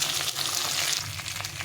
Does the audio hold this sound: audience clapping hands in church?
no